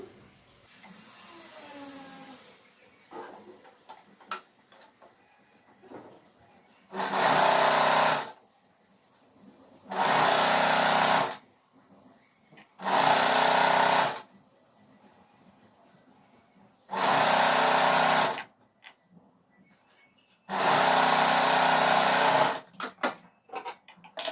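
Sewing machine stitching a one-inch fold on nightsuit fabric, five loud steady whirring runs of a few seconds each, separated by quiet pauses with faint handling, and a short voice at the start.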